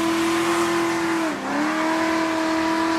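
A donk Chevy's engine revs loud and close, with a sustained steady tone that dips briefly in pitch midway before climbing back up.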